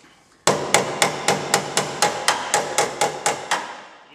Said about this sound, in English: give it a few taps with the hammer to make sure it's sitting together properly